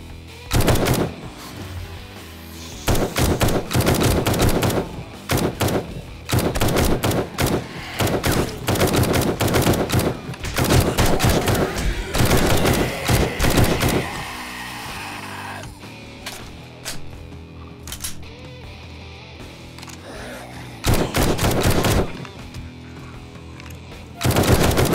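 Gunfire from 7 Days To Die, loud repeated automatic bursts separated by short pauses, long sustained volleys early on, then sparser shots and a final burst near the end.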